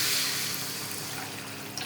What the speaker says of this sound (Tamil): புளி தண்ணி ஊற்றிக்கலாங்க